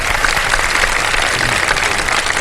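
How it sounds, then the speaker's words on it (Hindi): A studio audience at a Karachi television show claps for contestants from Karachi University, a dense, steady burst of applause filling the room. "और अरूबा आलम और मलिहा रेहान कराची यूनिवर्सिटी से हमारे कंटेस्टेंट्स के लिए बहुत सारी तालियां।"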